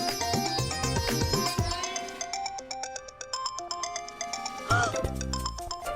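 A melodic phone ringtone chimes through a repeating pattern, loud and close, with the tune shifting partway through and no voices over it.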